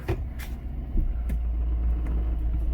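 A car at an auto auction lot idles and pulls forward just after being started, a low steady engine rumble with a few faint knocks early on.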